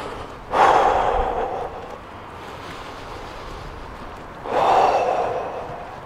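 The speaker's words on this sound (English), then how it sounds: "So having to breathe heavier once you've stopped, it's called an oxygen debt." Two long, heavy breaths follow a half mabu and mabu kung fu leg workout, each a loud, airy exhale several seconds apart, close up with no talking.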